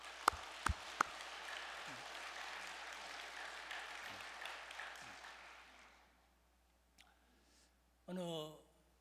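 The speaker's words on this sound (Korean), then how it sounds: "우리 원로 선배님, 원로 목사님, 우리 선교사님들을 위해 감사의 박수를 보내십시오" Applause from a church congregation honouring retired pastors and missionaries at a Thanksgiving service, a steady patter of many hands with a few sharp claps at the start, fading out around six seconds before a brief voice.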